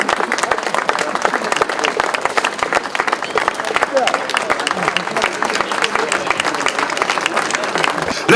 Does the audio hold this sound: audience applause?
yes